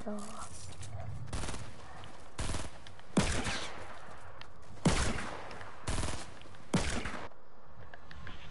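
Pistol fire in a video game, about six sharp shots spaced irregularly over several seconds, loud and close, with faint game background sound in between.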